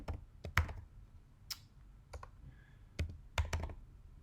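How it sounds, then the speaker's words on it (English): Computer keyboard being typed on in short irregular bursts of crisp key clicks with brief pauses between, close and clear, with no voices. "I'm going to type in here network marketing."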